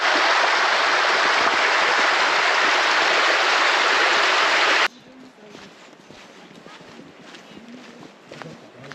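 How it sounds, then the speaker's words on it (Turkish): Waterfall near Hallstatt, Austria, a loud, dense roar of rushing water for about five seconds that cuts off abruptly, leaving quiet outdoor ambience with faint footsteps. "Şelale görüyorsunuz."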